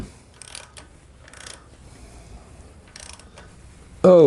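Ratcheting clicks from a socket wrench on a long extension as the 5/8 drain plug goes back into a Harley-Davidson Twin Cam Dyna, light ticking bursts in quiet surroundings ending with a sudden loud clunk.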